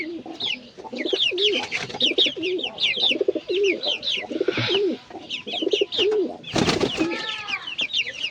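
A newly caught pigeon coos loudly and close, rolling repeated calls in a steady rhythm, mixed with sharper chirps from other birds nearby and a brief rustling burst near the end.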